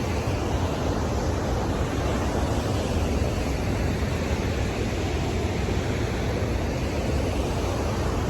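Rough sea rolls onto the coast below the Shaat viewpoint near Salalah, Oman. A steady, loud broadband roar of surf, mixed with wind buffeting, continues without pause and without voices.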